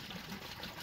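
A Kohler toilet tank refilling after a flush, with a steady, soft rush and trickle of water running continuously without any pause.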